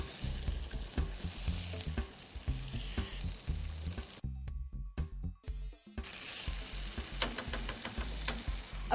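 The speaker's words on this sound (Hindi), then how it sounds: "मैं इसको बिल्कुल कम तेल में इसलिए फ्राई कर रही हूँ" Sesame-seed-coated fish shallow-frying in a little oil in a pan gives a close, loud, steady sizzle that briefly drops out midway before crackling back strongly, with no voices.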